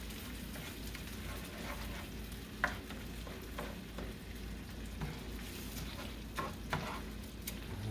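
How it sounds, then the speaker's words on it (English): Uncooked jasmine rice fries with chorizo in a single pan, giving a steady continuous sizzle broken by occasional scraping clicks of stirring, close and even throughout. "And now I'm going to throw in the rice. This I'm happy to be using is jasmine rice."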